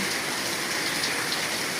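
Steady rain pours continuously in Khulna, a dense even hiss of drops striking surfaces nearby, unbroken throughout with no voices.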